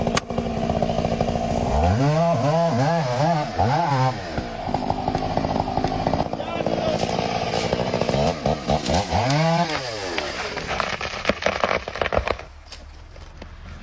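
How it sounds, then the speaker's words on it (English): A giant high-powered chainsaw cuts through timber, its loud engine revving in two rising, whining bursts over a constant buzzing roar, then dropping off toward the end. "The chainsaw roars, its sharp blade slicing through the timber with the ease of a hot knife through butter."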